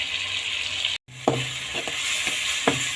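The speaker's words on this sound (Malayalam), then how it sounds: "എല്ലാം കൂടി ചേർത്തിട്ട് നന്നായിട്ട് ഇളക്കി" Tomato rice masala being stirred in a pan over steady frying sizzle, with a few distinct utensil scrapes and taps against the pan and a brief dropout near the start; no talking.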